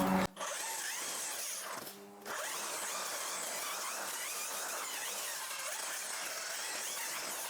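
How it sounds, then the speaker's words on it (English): A string trimmer fitted with a saw blade whines loudly as it cuts through brush, its engine note steady and close after a brief catch at the start and a short dip partway through. "So I made this makeshift bush trimmer with a saw blade."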